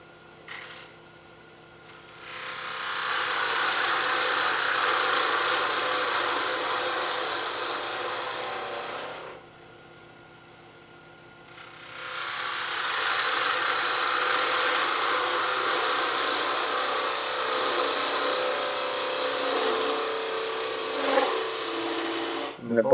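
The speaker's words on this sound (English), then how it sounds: "the bowl gouge doesn't really complain about going into the end grain" A bowl gouge cuts into end grain on a spinning wood lathe, making a sustained rasping shave in two long passes separated by a short quiet gap.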